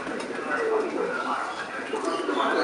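Domestic and crossbred pigeons coo in a continuous low murmur at a breeder's loft, with people talking over them.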